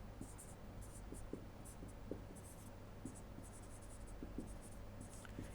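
Steady handwriting strokes, the scratch of a pen on a writing surface heard close, in a quiet room with a low hum underneath and no talking.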